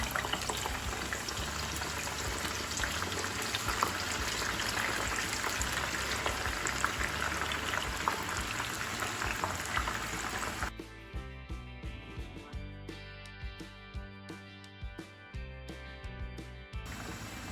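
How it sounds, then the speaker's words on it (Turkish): Green peppers dropped into hot oil give a steady, dense frying crackle for about ten seconds, then the texture thins into scattered sharper pops and spits over a quieter background, with no talk. "Şimdi biberlerimizi atıyoruz yağın içine kızarmaları için"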